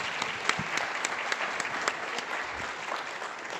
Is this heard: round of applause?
yes